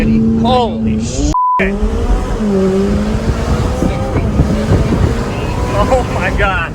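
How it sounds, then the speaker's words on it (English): McLaren 570S Spider accelerating hard at full throttle from a launch-control start, engine note rising steadily and loud through the gears while someone talks excitedly over it. "So here, full throttle, boost building, boost ready."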